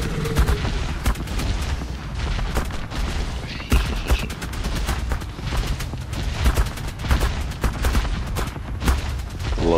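Turret in the Ark Survival Evolved video game firing continuously, a dense rapid stream of sharp gunshot bursts with low booming thuds, loud and steady throughout.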